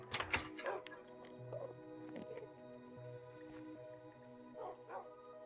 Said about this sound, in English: we got two new dogs